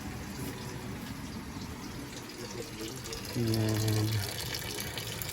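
Tap water runs steadily into a sink during washing up, a continuous close rush of flow, with a short spoken word and a brief humming tone rising over it near the end.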